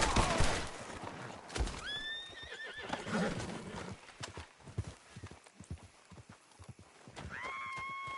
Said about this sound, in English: Take me off this horse!